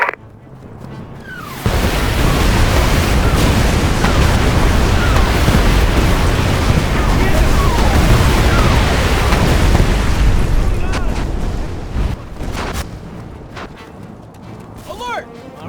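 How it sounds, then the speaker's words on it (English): Heavy artillery barrage in the game Mercenaries 2: World in Flames, a loud sustained roar of booming blasts lasting several seconds, then tapering into scattered distant explosions, with voices talking over it. "Artillery support incoming."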